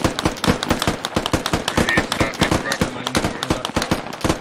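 In the military shooter game Squad, rapid bursts of gunfire crack repeatedly in quick, uneven volleys, loud and sharp across the whole moment.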